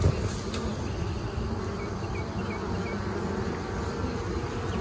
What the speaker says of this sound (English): You got bees all under there, I'm sure.